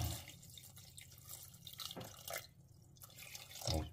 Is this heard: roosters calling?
no